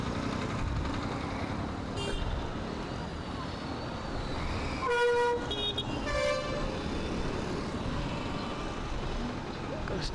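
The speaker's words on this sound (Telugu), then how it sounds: "ఏమ్మా, ఏం ట్రాఫిక్!" Busy city road traffic in the rain, engines rumbling under a continuous wash of noise, with horns tooting in short bursts around the middle; a voice speaks over it.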